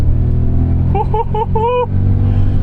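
A 2001 BMW M5 E39 idles close by with a steady, low V8 rumble. Partway through, a short tonal vocal sound rises briefly over the engine before fading back.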